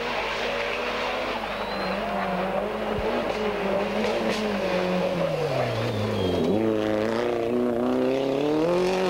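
A Toyota Celica GT4 rally car at the 1991 Safari Rally revs its engine on the start ramp, the pitch rising and falling in waves before climbing sharply near the end.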